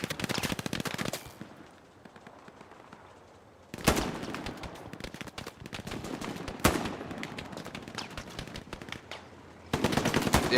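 M1 Garand rifle fire in the World War II shooter Hell Let Loose, with sharp shots and rapid bursts of battlefield gunfire in loud clusters separated by quieter stretches.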